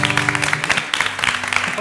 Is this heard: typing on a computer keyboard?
no